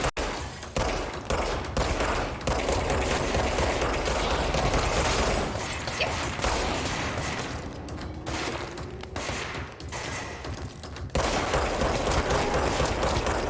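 Rapid automatic gunfire from the video game Control, sustained loud bursts of shots filling most of the stretch with short gaps between volleys.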